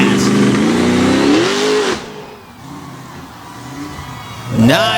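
Monster truck engine revving loudly at a Winchester monster truck competition, a strong rising roar that cuts off, then returns with a sharp rev near the end.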